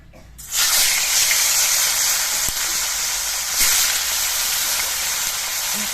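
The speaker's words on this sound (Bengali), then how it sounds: "এবার মাছগুলো ভেজে নিচ্ছি" Pieces of silver carp drop into hot oil in a wok, setting off a loud, sudden, spraying sizzle that holds steady and strong until the end.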